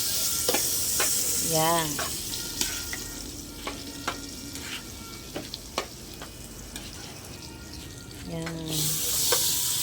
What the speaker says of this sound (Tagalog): ilalagay na muna natin ang dairy cream